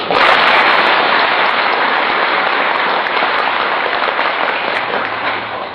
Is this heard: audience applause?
yes